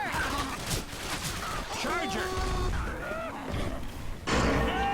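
Shotgun fire in the zombie co-op shooter Left 4 Dead 2, sharp booming blasts at irregular intervals amid busy game noise, growls and voices, with a loud burst near the end.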